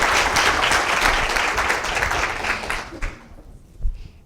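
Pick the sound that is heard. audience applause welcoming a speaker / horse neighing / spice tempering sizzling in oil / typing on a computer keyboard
audience applause welcoming a speaker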